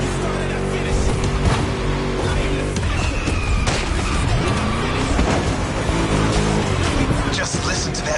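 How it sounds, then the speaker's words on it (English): A V8 car engine in GTA 5 on PS5 revving and roaring through gear changes, loud and close, with someone talking over it. "Just listen to that V8,"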